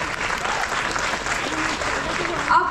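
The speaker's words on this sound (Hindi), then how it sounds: "तो एक बार जोरदार शुरुआत करते हैं तालियों के साथ।" Audience applause opening a ghazal night at a university in Bangalore, a steady, dense burst of clapping from a large crowd, fairly loud and continuous, with faint voices underneath.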